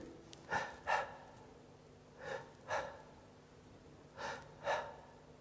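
A voice imitates a sick child's laboured breathing: three pairs of rasping, gasping breaths, each pair separated by a short pause.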